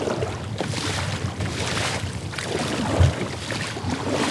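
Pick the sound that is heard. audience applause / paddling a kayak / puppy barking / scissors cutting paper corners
paddling a kayak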